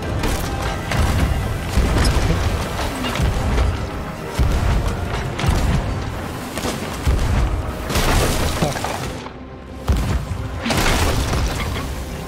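Cannons fire in a video game ship battle aboard a sloop. Heavy booms and crashing impacts repeat every second or two over dense, continuous game noise, close and loud throughout.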